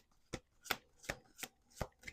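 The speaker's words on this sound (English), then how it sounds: "Okay, last shuffle." Sharp riffling bursts of a card deck being shuffled, six quick ruffles spaced roughly evenly, close and crisp with no talking.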